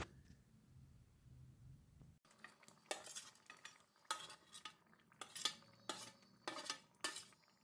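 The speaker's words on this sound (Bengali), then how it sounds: "এবারে আমি ভেজে রাখা পনিরগুলো এই গ্রেভিতে দিয়ে দিচ্ছি" Fried paneer cubes go into a pot of boiling gravy for a capsicum paneer curry, with a quiet simmer followed by a run of sharp, evenly spaced clinks and scrapes of a spoon against the pot.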